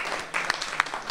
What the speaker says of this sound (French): Je pense qu'on peut clairement applaudir Nathalie.